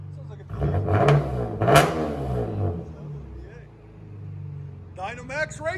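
A Chevy Camaro 3.6L V6 with Dynomax Race Bullet exhaust revs in throaty rising bursts close by, someone talking over the engine.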